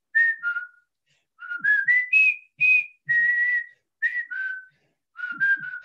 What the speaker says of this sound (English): and I started whistling with them